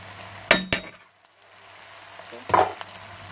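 Fish is added to a pan of masala and stirred while frying, with a low steady sizzle and a few sharp utensil scrapes and clinks against the pan.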